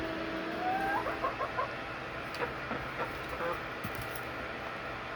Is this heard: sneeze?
no